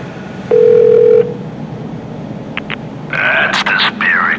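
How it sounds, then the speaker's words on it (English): Cell phone being dialed in the video game The Darkness, a single sustained tone followed by short beeps and a quick burst of dialing tones, close and clear over a low background hum. "Where's the goddamn cell phone?"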